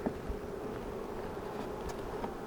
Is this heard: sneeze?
no